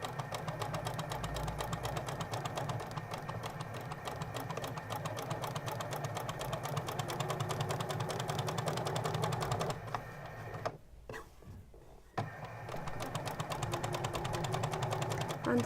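A sewing machine back stitching and sewing a garment seam, a steady close mechanical whirr running nearly continuously with a short pause near the end before it resumes.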